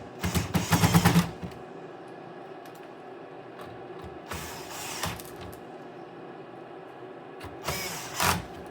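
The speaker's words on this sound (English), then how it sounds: "And then now we can just go ahead and put all the screws back in here." A power driver runs screws back into a PS5 Slim console in short whirring bursts at the start, middle and end, separated by quieter stretches of faint handling noise, close and with no speech.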